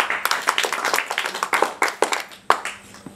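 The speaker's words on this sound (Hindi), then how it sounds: "हाँ, ताली मारू।" People at a wedding clapping in an uneven rhythm, a quick series of sharp close hand claps lasting throughout, with faint talk underneath.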